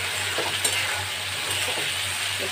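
Spice masala and potatoes stir-fried in a pan for pumpkin sabji, giving a steady close sizzle with soft scraping stirs throughout and no talking.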